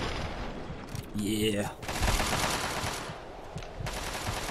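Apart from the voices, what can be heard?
sniper rifle gunshots in Fallout 3 video game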